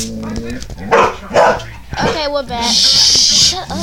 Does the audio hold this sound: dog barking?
yes